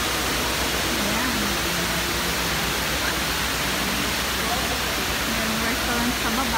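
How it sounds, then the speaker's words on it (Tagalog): A tall man-made indoor waterfall inside Dubai Mall gives a constant loud rushing roar, with a crowd murmuring faintly beneath it. "Ganyan kataas yung waterfall na to."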